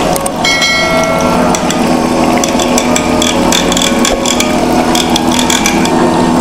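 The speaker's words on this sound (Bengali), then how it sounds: "এই যে আমাদের ক্রিম সেপারেটর মেশিন, দেখেন এই যে ক্রিম করতেছে।" A cream separator machine spinning milk to separate out the cream gives a loud, continuous mechanical whir, with rapid ticking and rattling clicks throughout.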